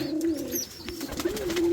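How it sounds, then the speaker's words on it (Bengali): Pigeons at a pigeon farm give soft, low cooing calls in a rolling rhythm, close by, with faint background rustle and no speech. "এই খামারে কিন্তু অনেক সুন্দর সুন্দর কবুতর আছে"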